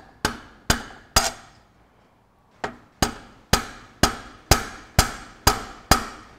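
A hammer knocks a tractor's front king pin into place with sharp metallic taps. Three come close together, then a short pause, then eight more in a steady rhythm, near and loud.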